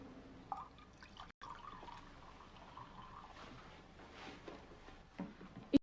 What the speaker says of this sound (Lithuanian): pripilsiu karšto vandens iš krano